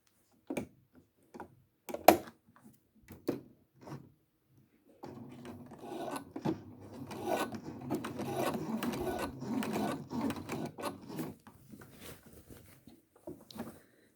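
After a few scattered clicks and handling knocks, a sewing machine starts stitching in the ditch of a center back seam, a close, moderately loud whirring run with a rapid ticking rhythm that slows and fades near the end.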